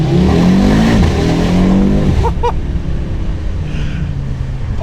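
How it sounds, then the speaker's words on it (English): An Audi RS3 Performance Edition accelerates hard on a winter drive, its five-cylinder-style exhaust note climbing loud and close through a gear change before settling into a steadier drone. "window down, let's do an exhaust test."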